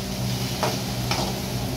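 Onions and red masala being stirred and sizzling in a pan, an even frying hiss with two soft scraping strokes of the spoon, heard close up without speech.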